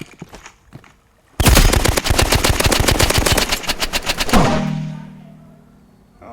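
Rapid handgun fire in the video game Rivals: one loud, dense burst of quick shots lasting about three seconds, followed by a fading mechanical whir.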